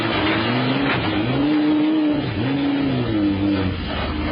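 Dodge Viper GT race car engine on a wet A1 Ring circuit, a loud, close engine note rising and falling through repeated revving and shifting cycles, heard alone with no voices.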